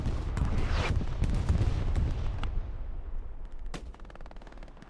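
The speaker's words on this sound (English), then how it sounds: "Bombing runs coming in for the British." Bombing runs hit during a Hell Let Loose battle in North Africa, mixing heavy explosions and rolling booms with rapid gunfire cracks, loud and dense at first, then thinning to scattered distant shots and a sharp blast.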